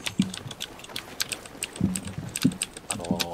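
Keys clack on a computer keyboard in bursts of quick uneven taps with a few heavier thumps, close and fairly loud, with a game's sounds faintly behind.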